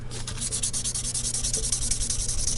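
A guitar nut is rubbed back and forth on roughly 400-grit sandpaper, making a close, continuous gritty scraping in quick even strokes with no voices.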